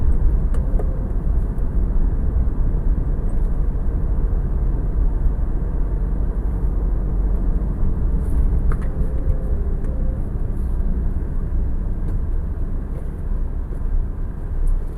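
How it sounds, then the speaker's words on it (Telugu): A 2012 Tata Vista car driving along a road, heard as a steady low engine and tyre rumble with constant cabin drone, continuous for the full stretch with no talk. "ఈ వెహికల్కి సంబంధించి లాంగ్ డ్రైవ్ అయితే ఒకటి ట్రైల్ అయితే తీద్దామండి"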